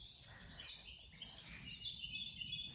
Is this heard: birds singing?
yes